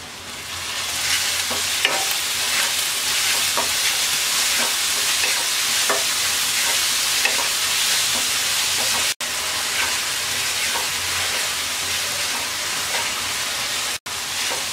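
Whole spices, torn bay leaves, large and small cardamom, a piece of cinnamon and cloves, frying in oil for a fish biryani, a loud continuous sizzle with crackling pops and stirring scrapes throughout, with two brief dropouts.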